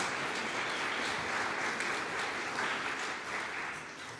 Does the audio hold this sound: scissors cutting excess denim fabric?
no